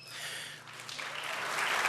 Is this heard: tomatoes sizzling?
no